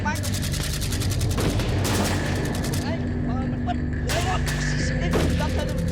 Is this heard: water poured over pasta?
no